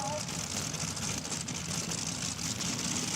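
A pulling tractor of the Meteors team roars at full throttle at a club tractor pull, a dense, continuous, loud engine blare that fills the whole stretch with no breaks.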